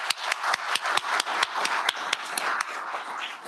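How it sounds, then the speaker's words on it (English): A conference audience applauds: a modest crowd claps with a few loud, sharp individual claps standing out over a softer steady patter, close and continuous, with no speech. "please join me for a round of applause thanking them"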